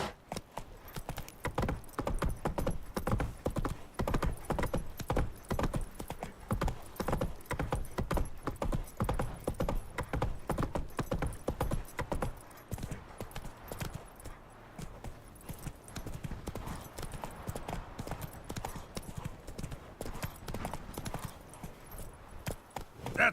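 Roach, a horse in The Witcher 3, trots with steady rapid clip-clopping hooves that run continuously and fairly loud, with a jangle of tack and no talk over them.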